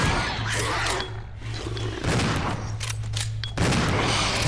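Shotgun blasts in the Resident Evil 0 video game during a rematch with the Proto Tyrant: several loud, booming shots in close succession over a continuous low rumble, with no voices.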